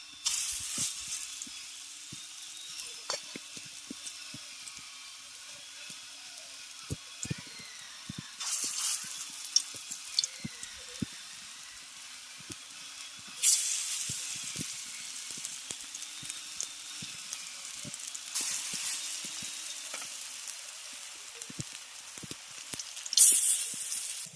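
Fritters of hinche greens fry in mustard oil in a wok, giving a steady soft sizzle with faint crackles and occasional spatter, continuing alone without talk.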